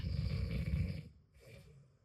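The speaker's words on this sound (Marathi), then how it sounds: "मंडळी तुम्हाला घोरण्याचा आवाज येतोय की?" A single long, deep snore rumbles for about a second, followed by a softer, breathy exhale.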